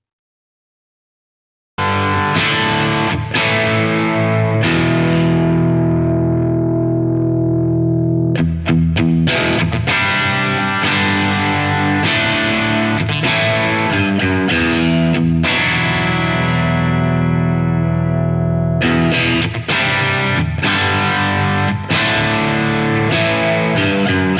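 Electric guitar played through an M-Vave Tank G budget multi-effects unit using its stock presets, giving a loud, crunchy distorted tone with sustained chords and picked phrases that ring out continuously with brief pauses between.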